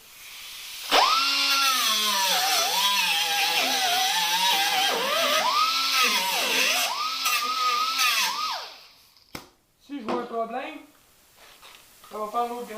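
A compressed-air tool whines at a high, wavering pitch during repair of a car's rear panel, running loudly for several seconds before cutting off, with brief bursts and voices afterward.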